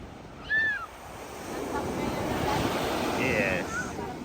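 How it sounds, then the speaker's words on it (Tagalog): Sea waves wash onto a beach shore under an overcast sky, a broad rushing swell that builds and lingers, with wind buffeting the microphone and a brief high whistle-like cry near the start. "Okay, not too close to the dagat, Bobby."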